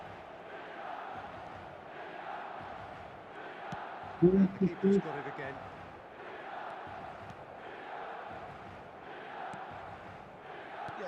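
A football video game match carries a low, steady stadium crowd murmur with rising and falling swells beneath a commentator's voice, with a brief louder burst partway through.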